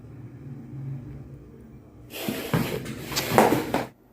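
A desert monitor lizard, held in the hand, puffs and hisses in a sudden burst of breathy, broadband hissing lasting under two seconds. It is close and fairly loud after a quiet start.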